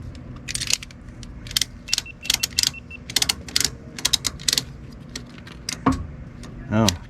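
A ratchet strap being cranked tight on a Yamaha WaveRunner, with a run of sharp, rapid metallic clicks and rattles in bursts, close up, ending in a short creak.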